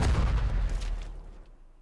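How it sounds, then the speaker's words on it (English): A loud explosion in the video game Nikke, a heavy low boom with a rumbling tail that fades out. "There's a loud explosion."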